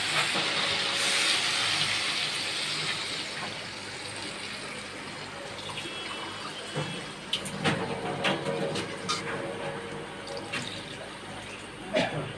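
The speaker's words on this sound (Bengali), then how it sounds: "পরিমাণ মতো জল দিয়ে দিলাম" Water poured into a simmering flat bean curry in a cooking pot sets off a loud, close steam hiss that eases into a quieter, steady sizzle with a few sharper crackles.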